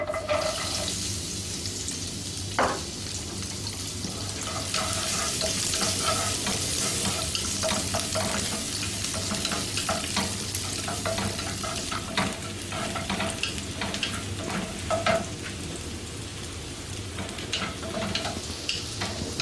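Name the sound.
garlic cloves frying in oil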